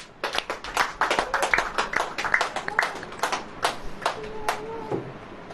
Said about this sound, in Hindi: ताली बजाएं ऐसे।